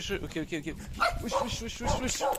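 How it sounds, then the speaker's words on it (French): Dogs bark repeatedly at close range on an island in Vietnam, a rapid run of hoarse, insistent barks mixed with people talking. "les chiens là, t'as pas envie de te faire mordre par eux"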